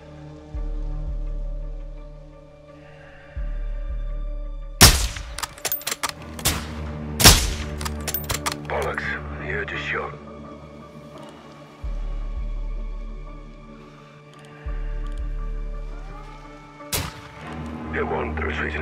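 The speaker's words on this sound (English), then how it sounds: "Laswell, we're taking ineffective fire from the cartel." Cartel gunmen firing during a sniping mission in a PS5 game, with several loud, sharp gunshot bursts and single cracks over a droning background and pulsing low rumble, while radio voices talk between the shots.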